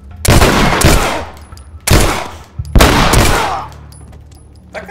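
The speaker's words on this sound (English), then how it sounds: "That guy got shot" Heavy gunfire in The Last of Us Part II: three loud, close bursts of shots, each ringing out and decaying before the next, separated by short gaps.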